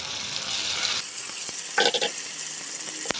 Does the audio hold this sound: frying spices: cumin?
yes